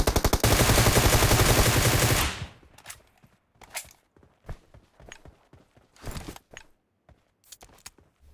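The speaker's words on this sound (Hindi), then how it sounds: "यहाँ पे यार गोली चलती है अचानक से" In PUBG Mobile, a loud, rapid burst of automatic gunfire lasts about two seconds, then gives way to quieter scattered thuds and footstep-like taps with short sharp cracks in between.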